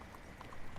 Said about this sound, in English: Don't get hit by the horse.